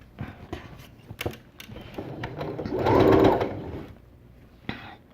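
A sewing machine stitching a scarf, a few short starts of the needle and then a sustained whirring burst in the middle that fades out, with light handling clicks around it.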